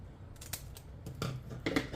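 Scissors trimming material from a DIY gun grip kit: a few quiet, irregular snips and crisp cuts close by, growing slightly louder toward the end, with no talking.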